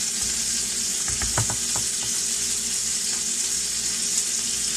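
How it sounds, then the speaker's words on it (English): Sausage patties fry in a pan with a steady, close broadband sizzle that runs throughout, broken by a few soft clinks and stirring knocks early on; no one speaks. "As you can hear, Carolyn's done got the sausage started there"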